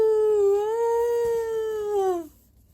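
A puppy cries loudly in a children's story, one sustained, wavering, tonal wail lasting about two seconds, close and alone, before it abruptly fades out.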